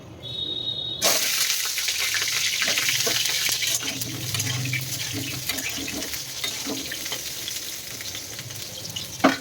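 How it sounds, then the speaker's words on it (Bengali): Pointed gourd (potol) sizzling as it fries in a home kitchen pan, a steady close hiss with occasional stirring scrapes and a sharper clatter near the end, no talking. "আগে পটলটাই ভেজে নিই"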